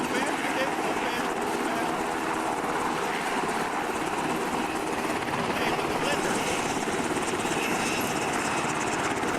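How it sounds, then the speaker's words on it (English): Helicopter in a tactical team video game: a continuous loud rotor and engine drone throughout, with people talking over it. "Run to the chopper."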